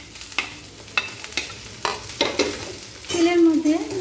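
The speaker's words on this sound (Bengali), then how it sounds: "তেলের মধ্যে নাড়াচাড়া করে নেব।" Chopped onion and capsicum sizzle in hot oil while a spatula scrapes and stirs them in a pan, giving repeated knocks over a steady frying hiss that grows louder toward the end.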